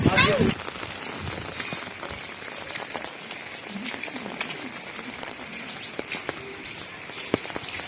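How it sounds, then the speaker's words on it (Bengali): Heavy rain patters on surfaces in a dense, steady hiss with scattered drip ticks, and a voice speaks briefly over it. "দেখুন কি হারে বৃষ্টি হচ্ছে আমাদের এদিকে"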